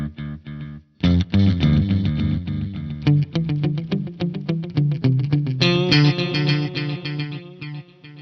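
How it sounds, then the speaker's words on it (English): Electric guitar plays through a stereo dual delay with a fuzz pedal bypassed, clean picked notes and chords trailing into repeating echoes that bounce and smear together, loud and close with no talking. "we can just have a listen to this dual delay in front of the pedal."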